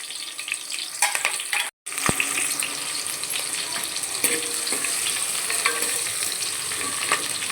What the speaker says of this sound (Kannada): ಈರುಳ್ಳಿ ಸ್ವಲ್ಪ ಕೆಂಪಗಾಗಲಿ, ಚೆನ್ನಾಗಿ ಫ್ರೈ ಮಾಡ್ಕೊಳ್ಳೋಣ.